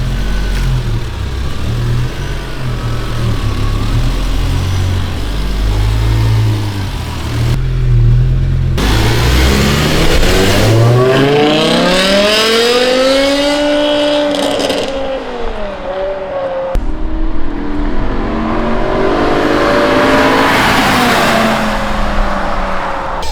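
A BMW M6 with a freshly repaired V10 on a street test drive, loud and close, with deep rumbling and then repeated rising and falling revs as it accelerates and shifts.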